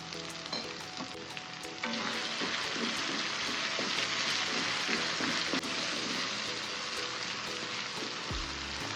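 Onions, garlic and dried red chilies fry in a pan for a coconut milk noodle dish, a steady, dense sizzle with stirring clatter throughout and a brief low knock near the end; no talking.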